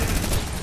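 Video game gunfire rattles continuously in one loud, dense burst with little gap between shots.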